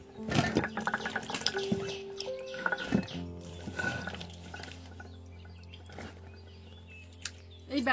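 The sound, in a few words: washing vegetables in water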